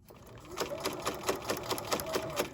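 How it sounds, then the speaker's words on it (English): A sewing machine stitching along a webbing casing, a rapid even run of needle beats, close and steady under a faint background hum. "Going to sew all the way to the end, and then I'm going to back stitch for about 1 inch"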